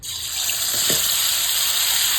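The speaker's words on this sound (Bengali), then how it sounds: "মশলাটা তেলে ছেড়ে দিচ্ছি" Spices hit hot oil in a kadai and sizzle at once, a bright steady frying hiss that swells within the first moment and holds loud, with a brief clink partway through.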